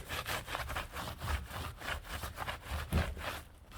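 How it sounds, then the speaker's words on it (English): A cloth rubs over freshly grouted tiles to dry them, a quiet, steady back-and-forth scrubbing in a regular rhythm. "just dry it off a bit by giving it a general rub"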